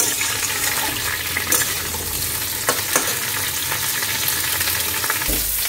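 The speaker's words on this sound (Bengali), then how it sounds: "এবার ফুলকপিটাকে ভাজা হয়ে গেছে নামিয়ে নেব।" Cauliflower florets fry in hot oil for a cauliflower roast, giving a steady, close sizzle that runs throughout with a few sharper crackles and no voices.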